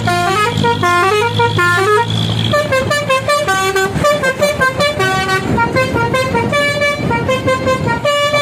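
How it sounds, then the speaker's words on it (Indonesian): Custom basuri telolet horn on a Sulawesi truck plays a loud, continuous multi-tone melody, with stepped musical notes shifting through a tune for about eight seconds, up close and alone. "Tapi sayangnya untuk basurinya kayaknya ini bukan sound asli daripada truknya itu ya."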